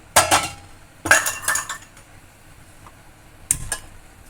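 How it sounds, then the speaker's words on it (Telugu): A metal pot is set down on a kitchen stove with a few sharp clanks and clinks in short bursts, close by, with a final clatter after a brief quiet pause and no talking. "స్టవ్ మీద గిన్నె పెట్టేసుకొని"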